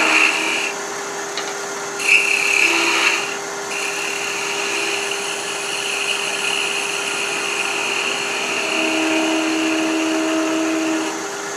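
A wood lathe spins steadily while a small sphere is turned for a chess piece head, giving a continuous whirring hum with brief louder scraping bursts of the tool against the wood.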